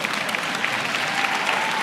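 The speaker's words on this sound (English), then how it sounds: "somebody ought to clap on that." Audience applause at a motivational sermon, a loud, sustained burst of many hands clapping that stays dense and even throughout, with no talk over it.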